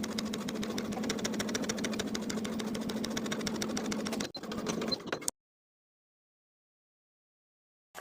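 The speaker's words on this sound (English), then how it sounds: "sewing along the facing side above the main seam with 1/8 of an inch seam allowance" A sewing machine understitches a skirt facing to the seam allowance. Close, fast, rhythmic needle chatter runs steadily for about five seconds, briefly pauses, resumes, then stops and is followed by silence.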